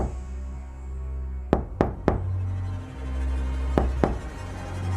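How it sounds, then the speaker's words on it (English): Knocks coming from inside a crack in the ground: a group of three sharp raps, then two more a moment later, set against a steady low hum. "from inside the crack came knocking. 3 knocks. Slow."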